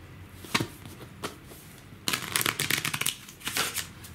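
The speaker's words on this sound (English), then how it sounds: "I will be giving the cards a couple of shuffles just to mess around the order even more." A deck of playing cards gets shuffled during a magic trick: two short riffles, then a longer rapid burst of flicking cards, close and crisp.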